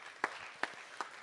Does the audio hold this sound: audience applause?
yes